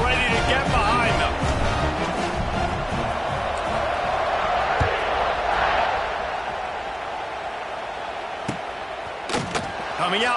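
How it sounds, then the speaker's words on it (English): A college football stadium crowd roars at kickoff, a dense, loud, sustained wall of cheering that fades a little toward the end, with a commentator talking over it and a few sharp knocks late. "this crowd now ready to get behind them"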